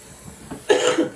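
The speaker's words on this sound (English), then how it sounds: "See, that didn't hurt me to cough." A single short cough from an artist at work painting, close and fairly loud, rising suddenly out of quiet room tone.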